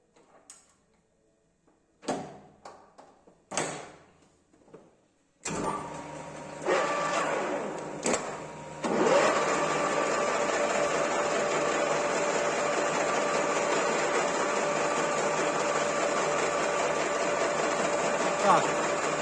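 A metal lathe cutting with a Chinese carbide insert at 400 rpm and 0.017 feed, a few clunks and clicks of setup, then a continuous whirring cut with a faint high whine that runs steadily to the end.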